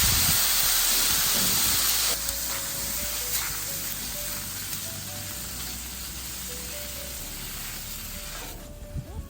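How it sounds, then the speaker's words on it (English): A steady hiss of cleaner being sprayed onto a Blackstone griddle fills the whole clip, loud and close, with a faint high whine in the background and a brief rattle near the end. "So we're gonna spray her down."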